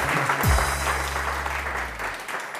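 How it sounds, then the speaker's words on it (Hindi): Studio audience at a TV morning show breaks into steady, full applause that holds evenly from start to finish, with a low tone sliding and humming underneath. "इनको बहुत बहुत सारी तालियों में रख सकती हूँ."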